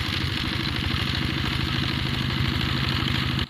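A rotary tiller's engine chugs steadily in a rhythmic, clattering pulse while working soil for a watermelon field, loud and close, then cuts off abruptly just before the end.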